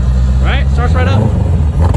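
A Corvette V8 is revved up and held at a raised, rumbling idle, loud and close, while a voice speaks briefly over the engine.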